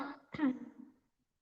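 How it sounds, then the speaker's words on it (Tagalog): One short, close throat-clearing cough rises sharply and trails off into silence, with no other sounds around it. "yung ubo ko na lang"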